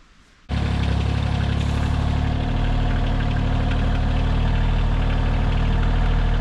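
A tractor engine starts and settles into a loud, steady idle close by, a constant low rumble with mild vibration that continues unchanged to the end.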